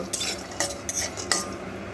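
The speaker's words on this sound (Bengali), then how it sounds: "এই রকম লালচে করে ভাজার পরেই বাদামগুলোকেও কড়াই থেকে তুলে নেব" Reddish-fried peanuts for sesame-peanut chikki are scooped out of a metal wok, giving three or four crisp metallic scrapes and rattles over a faint background hiss.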